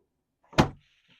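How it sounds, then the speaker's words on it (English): Drawer gliding out of a cabinet in a 2026 Airstream Classic travel trailer, a single quick sliding thump that fades, followed by a faint rattle. "I actually have nice drawers that come out on both sides"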